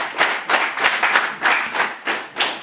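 An audience at a swearing-in ceremony for newly elected mediators claps together in a brief burst of rhythmic applause, several even, loud, closely spaced beats.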